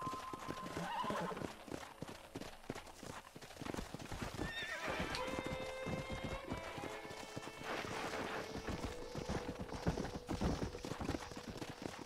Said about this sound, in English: I guess this is Bonnie's horse, though, technically